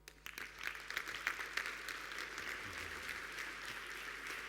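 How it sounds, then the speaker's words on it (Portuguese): Quiet audience applause at a literary event in Vila Real, starting with a few sharp claps and settling into a soft, even patter heard from a distance, with faint murmurs underneath. "peço o vosso aplauso para Laurentino Gomes"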